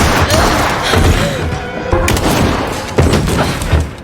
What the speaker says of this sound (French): Michael, lançant une grenade, projette Freya hors du bâtiment